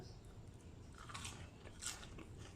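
A crisp batter-fried enoki mushroom fritter is bitten and chewed, giving faint, soft crunches in a quiet setting.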